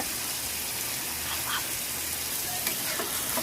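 Chicken liver sizzles as it is stirred into a frying gravy for chicken kulambu, a dense, steady close hiss with faint stirring clicks and no talking.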